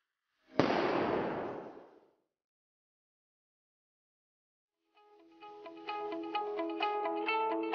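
A flare launcher built into a knife fires a flare or bear banger: one sharp, loud bang with a decaying rush, then silence, and later a separate stretch of tonal music.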